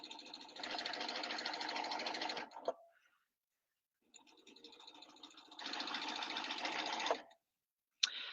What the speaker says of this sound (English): I'm going to fill this cone with fabric and I'm going to stitch.